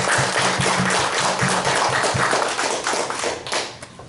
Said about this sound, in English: Let us give them a round of applause for.